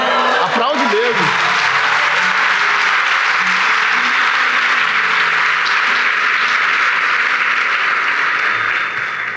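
A church congregation applauds loudly and continuously, dense clapping filling the room for the whole stretch with a brief voice at the start.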